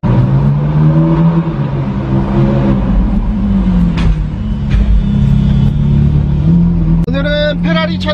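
A Ferrari's exhaust rumbles and revs steadily at close range, with a deep, continuous engine note that swells a few times and ends in a brief higher rev burst.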